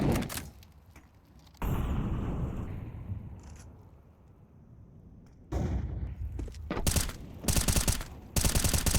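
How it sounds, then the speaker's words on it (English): Gunfire bursts in Counter-Strike on the Vertigo map during a competitive esports match, sharp loud volleys broken by quieter stretches, with a flashbang thrown to clear a close angle; no speech over it. "That's the flashbang to clear the close angle."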